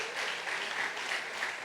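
A church congregation claps at a harvest festival service, steady dense applause carrying evenly at moderate volume with no voices on top.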